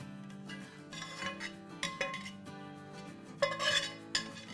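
Matar paneer curry being served from a cooking pan: soft scraping and clinks of a spoon against the pan, intermittent and close, over a faint steady background hum.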